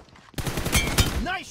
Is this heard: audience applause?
no